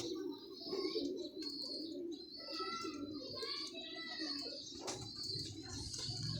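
Pet pigeons, a pair offered for sale, cooing in soft repeated throaty calls with chirps, a brief burst of wing flapping, and someone talking nearby.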